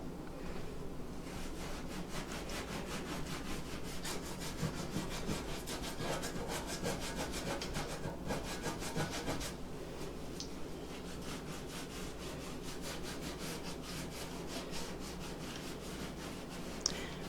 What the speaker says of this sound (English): just scrub that Barkeeper's Friend in there, and oh, it does a beautiful job.